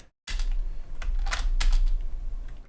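Quick typing on a computer keyboard while coding, a burst of close clicking keystrokes after a brief silence, with no voice over it.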